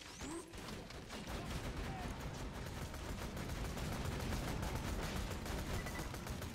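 Automatic turret fire in Borderlands 2, a continuous rapid stream of shots rattling steadily through the whole stretch with a dense, even texture, loud and near.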